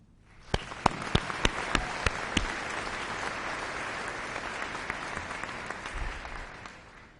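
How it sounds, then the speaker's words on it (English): A graduation ceremony audience applauds, opening with a few loud, distinct claps that swell into dense, sustained clapping through the hall before slowly thinning out. "A round of applause, please."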